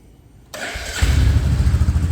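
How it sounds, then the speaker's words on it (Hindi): A Royal Enfield Bullet 350 Standard Black motorcycle starts up and settles into idle, its exhaust giving a close, low rumbling thump that holds steady after the start, with no talking. "मैं आपको एक बार इसका एग्जॉस्ट साउंड भी सुना देता हूँ दोस्तों"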